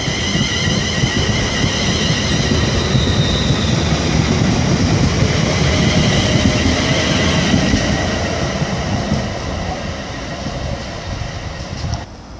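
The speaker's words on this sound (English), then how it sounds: "departing the 1429 London Midland service to Birmingham New Street" A London Midland passenger train moves through Birmingham International station, a loud close rolling rumble with squealing wheels and a high whine, fading slightly toward the end.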